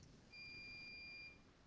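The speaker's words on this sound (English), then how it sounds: "do you guys hear that beeping sound in my background?" A washing machine sounds one steady, high electronic beep lasting about a second, faint and distant against a quiet room.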